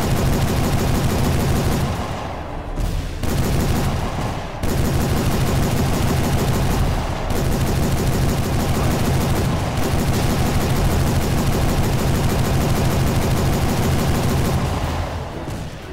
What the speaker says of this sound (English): if you're gonna give somebody a Gatling gun, you gotta let them shoot it